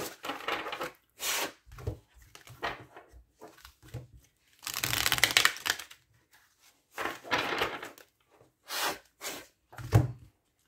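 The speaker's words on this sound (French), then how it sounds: "je vais simplement battre un peu plus les cartes" Oracle cards are shuffled in short bursts of riffling and paper slaps, close and separated by quiet gaps.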